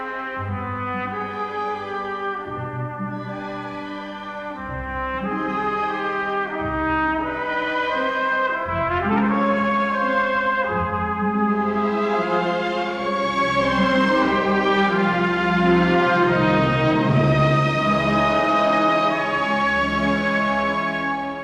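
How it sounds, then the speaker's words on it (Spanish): Orchestral end-credits music from the score for the 1982 film Monsignor, with sustained harmonic strings and brass swelling steadily, full and loud throughout without any voices. "Una música que suena así en los créditos de la película."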